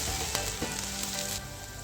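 Chopped onion and capsicum fry in a hot pan with a steady, close sizzle and a faint stir partway through, no voices over it.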